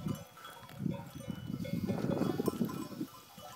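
Cows beside a mountain road in northern Spain give low lowing calls and chewing sounds, close by with a soft outdoor background and no talk.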